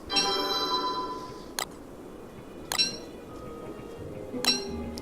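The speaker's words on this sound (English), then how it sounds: "Sorry for the Skype noise." A Skype notification chime rings out as a bright, glassy melodic tone, followed by three sharp clicks spaced across the moment, over faint background hiss.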